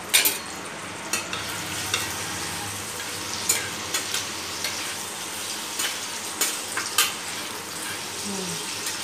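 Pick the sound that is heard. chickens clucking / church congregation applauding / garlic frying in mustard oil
garlic frying in mustard oil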